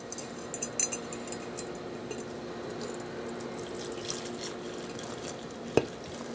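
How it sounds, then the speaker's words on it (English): Hot water at about 85 degrees poured for green tea, a steady soft trickling wash running throughout with a few faint clinks near the start and one sharp tap near the end; no talking. "Just pouring it in now."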